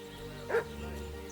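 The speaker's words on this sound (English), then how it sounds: "What's that dog making such a fuss about?" A dog barks once in the video game Kingdom Come: Deliverance II, a single short yelp rising over steady background music and ambience, at moderate distance.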